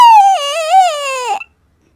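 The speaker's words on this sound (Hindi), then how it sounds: "उसे रोने की आवाज आती है" A single drawn-out wail in an animated story, high and quavering, rising and falling before breaking off abruptly, loud and close with no other sound.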